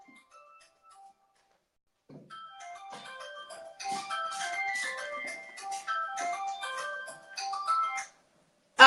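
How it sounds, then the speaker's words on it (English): A phone ringtone plays a bright, repeating electronic melody for several seconds, fairly close and clear, with no talk over it, ending just before a sudden loud burst. "Stupid phone."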